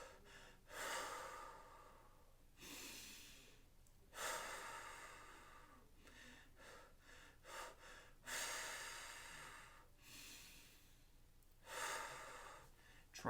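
Exaggerated, heavy breathing while gasping for air during a beginner running exercise, several loud sharp inhales and long exhales in a slow, repeating rhythm, close and alone.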